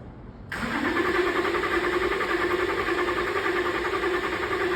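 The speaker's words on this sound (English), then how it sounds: "you can hear that it's got that inconsistent cranking cadence as well" An Audi Q7 engine cranks without starting after a brief quiet moment, the starter turning over continuously at close range with an uneven, lurching rhythm.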